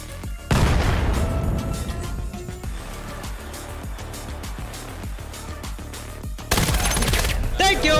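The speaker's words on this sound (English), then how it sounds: "Shots fired" Gunfire in the VR shooter game Vail VR bursts loudly in sharp, rapid volleys, with a heavy opening barrage, scattered shots in between and another dense burst near the end.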